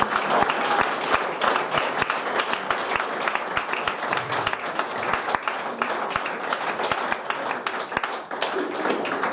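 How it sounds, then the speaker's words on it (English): At a football club event, an audience gives a sustained round of applause, dense overlapping claps at steady loudness for the whole stretch, with a few sharper individual claps standing out. "just give Steve a big round of applause"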